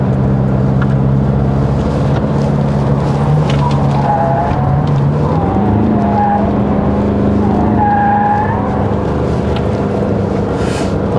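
A 2021 Ford Ranger WildTrak pickup with a 2.0 bi-turbo diesel, in two-wheel drive, corners hard uphill, its engine droning steadily while the tyres squeal and scrub loudly through the bend.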